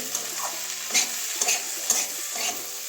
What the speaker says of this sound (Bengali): আর তো কিছুক্ষণ নাড়াচড়া করে নেবো তারপরে নামাবো এবারে এই যে একদম কড়া করে ভেজে নিয়েছি